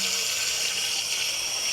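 Hot water pours steadily into a batch of lemonade, a continuous close rushing splash that holds at an even level throughout with no talk.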